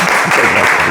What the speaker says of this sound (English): We would like to welcome him with an applause.